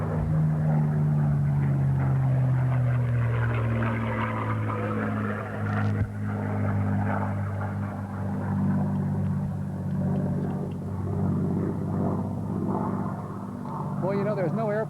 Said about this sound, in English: there's no airplane that sounds neater than them, is there?